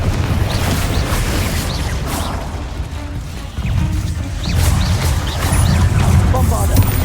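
Fire spell blasts in the Hogwarts Legacy video game make loud crashing booms over a dense, continuous battle rumble, with a voice calling out between the hits.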